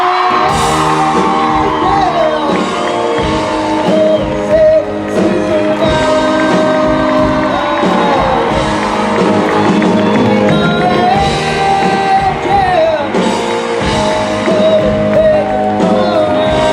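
Huge convention crowd at a Supernatural fan event in Vancouver screaming, whooping and cheering for Misha Collins, a loud dense wall of high pitched shrieks and yells that stays intense throughout, with applause mixed in.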